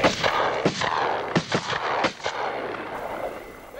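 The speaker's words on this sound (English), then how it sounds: "Even from short range, multiple shots may not kill the fox." Several gunshots are fired at a fox, landing as a cluster of sharp cracks about a second apart with a short rolling echo after each. Loud and close against quiet outdoor air.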